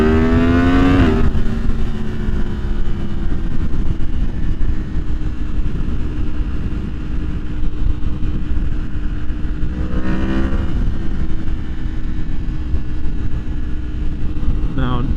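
A 2023 Yamaha MT-10 motorcycle with the AIS removed pulls away on a test ride, engine note rising in pitch early on and again near the end, with steady gusty wind noise throughout.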